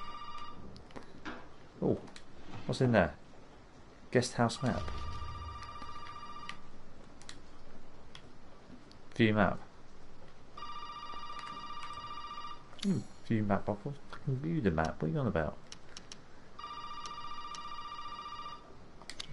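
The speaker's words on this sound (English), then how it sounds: "Suppose you want me to go and answer the phone." In the Resident Evil 7 video game, a telephone rings in three separate electronic bursts, heard at moderate volume while someone talks over and between the rings.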